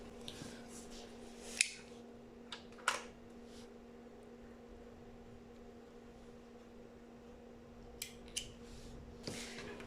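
Scissors snipping through yarn strands during knitting on a Sentro machine, a few sharp crisp cuts spaced apart over a steady low hum, close and fairly quiet with no talk.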